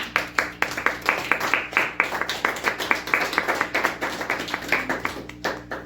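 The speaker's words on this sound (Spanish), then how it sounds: "Y una ofrenda de palmas al Señor, amén." A church congregation claps as an offering to the Lord, rhythmic rapid hand clapping in steady pulses, loud and close, over a low sustained musical hum.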